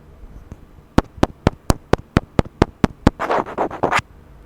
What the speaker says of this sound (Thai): เดี๋ยวผมจะทำการเคาะไมค์ให้ดูนะครับ